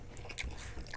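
Someone bites into cheesy Doritos nachos, giving a brief, close crunching chew during a mukbang, with no talking.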